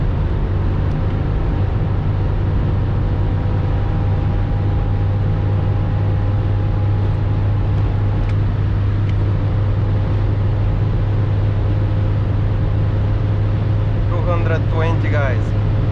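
A remapped BMW X5 E53 4.4i V8 engine drones steadily at full throttle on the autobahn, a low constant hum with road and wind noise, then a brief fluttering burst near the end.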